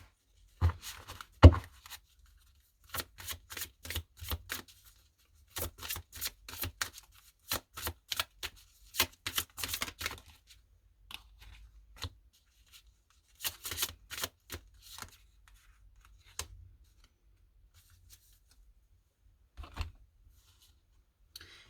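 Tarot cards shuffled by hand and dropping onto a table, sharp papery riffles and slaps coming in irregular bursts with pauses between, close and fairly loud.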